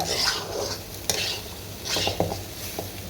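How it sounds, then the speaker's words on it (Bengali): Rice dry-frying in a pan for bhuna khichuri, stirred with a spoon: repeated scraping strokes and clinks against the pan over a low, steady sizzle, close and fairly loud, with no voices. "আমি কতক্ষণ ধরে এই চালটা ভেজে নিচ্ছি"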